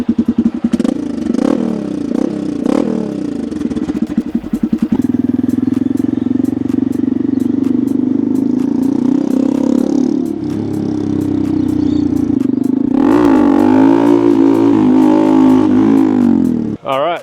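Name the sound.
motorcycle aftermarket exhaust revving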